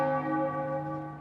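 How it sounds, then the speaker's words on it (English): A deep church bell of Amiens Cathedral rings out with one resonant strike, its rich tone humming and slowly decaying in a clear, open space. "On the ground, the bells in Amiens Cathedral began striking 12."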